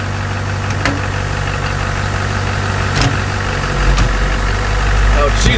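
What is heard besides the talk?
Duramax-swapped Chevrolet K20 truck engine, pulling away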